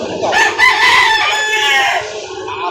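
A rooster crows at a chicken livestock market in Laguna, with a long, loud, drawn-out call that fades near the end. Someone talks faintly underneath.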